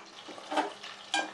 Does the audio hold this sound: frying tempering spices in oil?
yes